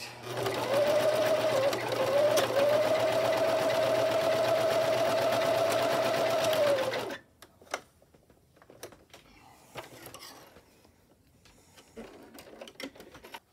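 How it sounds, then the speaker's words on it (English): A sewing machine stitches down the small tabs on both sides of an 18-inch doll dress, running steadily for about seven seconds close to the mic before stopping, followed by quiet handling of fabric. "I'm just going to stitch this down on both these"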